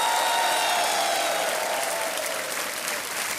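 A studio audience on a televised Hindi quiz game show claps loudly and steadily after a contestant's win, a thick sustained wash of applause with a faint musical tone underneath.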